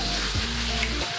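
Lamb cooking in sauce on a Genghis Khan pan, sizzling loudly and steadily, close up, with no talk.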